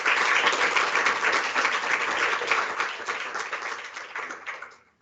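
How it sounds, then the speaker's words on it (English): Sustained applause from a panel discussion audience on transgender and gender-affirming healthcare in South Africa, dense steady clapping that holds for several seconds before fading out at the end. "A hand of applause for Elliott."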